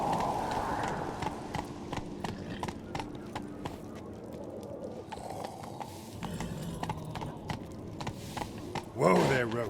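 Hooves of Roach, Geralt's horse in The Witcher 3, clip-clop in a steady walking rhythm, close and clear, with a character's voice speaking over them and a louder thump near the end.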